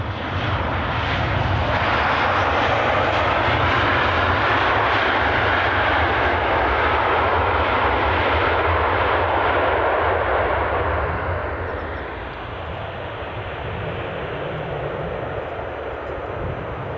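An airliner departs Edinburgh airport with a loud, steady engine roar that holds strong for about twelve seconds and then eases slightly as it draws away, with no talking.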